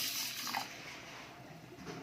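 Water runs steadily into a vessel for raw mango juice, a soft, continuous splashing and trickle heard close up in a quiet kitchen, with no talk.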